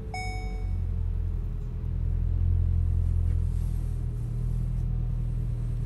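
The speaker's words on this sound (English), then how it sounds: "I've left the sound on this video so you can hear the powerful engine" The 2.0 TSI engine of a white Volkswagen Golf GTI Performance runs steadily from inside the cabin with a low, constant rumble that swells slightly midway. A faint chime sounds at the start, and no one speaks.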